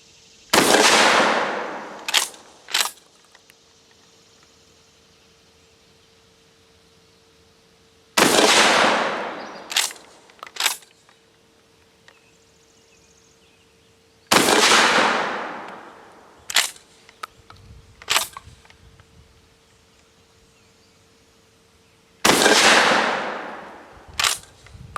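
A GForce GF12 pump shotgun fires at a target, four loud sharp shots spaced several seconds apart, each followed by two quick clacks of the pump action, with no talk.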